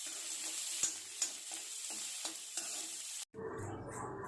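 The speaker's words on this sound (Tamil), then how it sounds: "கருவேப்பிலை கொஞ்சம், வெங்காயம் நல்லா வதங்கட்டுங்க" Onions, green chillies and curry leaves sauté in oil for a South Indian cabbage poriyal, giving a steady sizzling hiss with a few soft stirring knocks before the sound cuts out abruptly.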